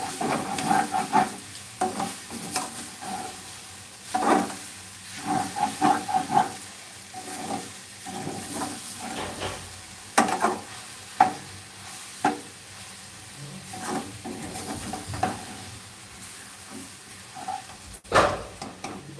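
Jackfruit seeds and bottle gourd with a little potato being stir-fried, with a continuous hissing sizzle and repeated scraping, clattering strokes of a spatula against the pan, close and fairly loud.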